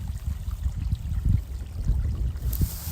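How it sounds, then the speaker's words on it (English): Gentle running stream of water, a soft continuous low burble and trickle heard close, steady and calm with no voices. "I've just heard water and a stream running"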